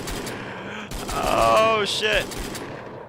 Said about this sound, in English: Okay, so the bullets exist, or they are existing in a way, and it still has my sound all bound there.